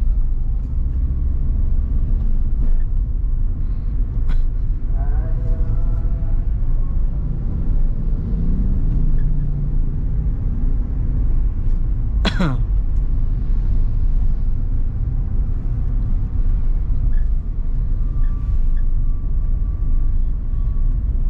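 Toyota Veloz engine and road noise heard from inside while driving, a steady loud low rumble throughout with a brief faint whine in the middle.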